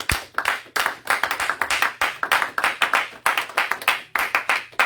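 A church congregation at a French-language sermon claps in a steady rhythmic beat, sharp unison claps repeating about twice per second, loud and close.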